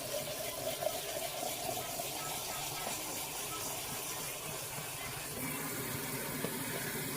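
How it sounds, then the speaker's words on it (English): Hot water poured slowly into sifted flour for a smooth gravy while it is stirred briskly, a steady close splashing hiss running the whole time with faint scraping. "I'm going to slowly add some hot water while stirring briskly."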